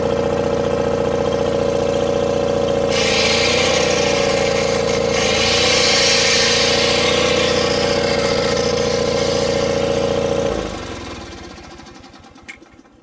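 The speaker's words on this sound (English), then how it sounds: "test the welder and ensure that the electrical 120 volt output works" An engine-driven welder with a 120-volt output runs at a steady, loud idle drone, then shuts down and winds to silence in the last couple of seconds.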